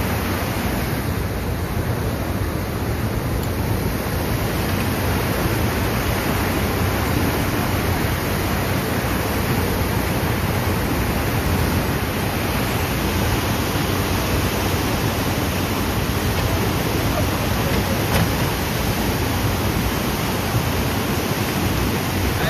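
Floodwater of the swollen Sina river rushes past a bridge in a constant, loud, unbroken roar that holds steady throughout with no talking.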